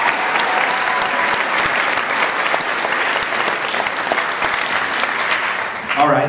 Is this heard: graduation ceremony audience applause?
yes